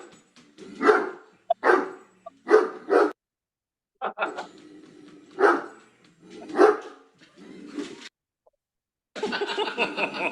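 A pet dog barks at a robot, several sharp barks and yips spaced through the stretch, close and fairly loud, with a brief higher whine near the end.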